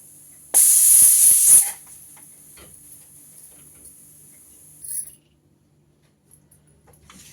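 A loud burst of steam hisses from a pressure cooker of raw banana stem sambar for about a second, then quiet, then a second short hiss.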